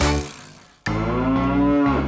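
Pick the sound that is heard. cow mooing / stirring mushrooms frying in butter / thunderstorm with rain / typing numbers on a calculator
cow mooing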